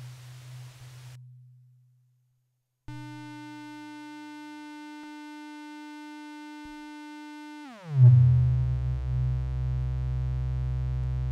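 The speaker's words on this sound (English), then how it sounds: "Let's plug into the input the saw wave output from the Modular 114" A Modular 114 saw wave runs through a t-spectrum filter: a steady buzzy synthesized tone holds, then sweeps downward into a loud low drone, with no voices.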